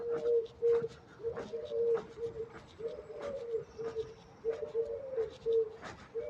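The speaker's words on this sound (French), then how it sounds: "Il y a les tourterelles, quoi." Soft, repeated cooing of turtle doves in a steady rhythmic pattern, several phrases in a row, fairly close with faint background noise.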